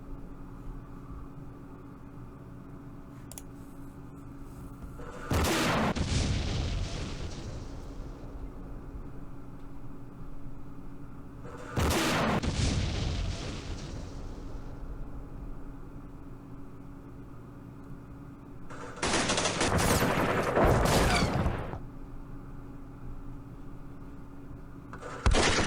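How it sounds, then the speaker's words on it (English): Mortar rounds land in the wargame Campaign Series Middle East during the Battle of Jerusalem, three separate heavy blasts at regular intervals, each a loud broadband burst with a decaying rumble, over a quiet steady background hum. "there's mortars here somewhere"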